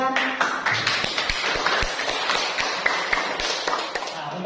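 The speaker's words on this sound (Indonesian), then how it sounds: "Tepuk tangan." A classroom group claps in scattered, uneven taps over busy room noise, with voices talking under the clapping throughout.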